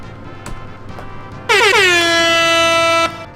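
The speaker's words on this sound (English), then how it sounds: "that's a good air horn" A loud, sustained air horn blast sounds alone for about a second and a half, starting abruptly and holding a steady chord before cutting off.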